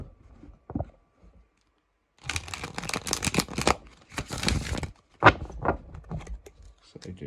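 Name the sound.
shuffling tarot cards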